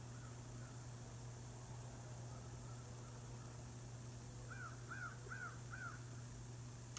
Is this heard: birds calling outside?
yes